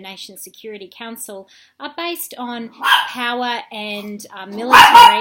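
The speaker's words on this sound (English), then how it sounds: "excuse the dog" A dog barks indoors, over and over, while a man lectures. The barks come close and loud, in irregular bursts under and between the speech.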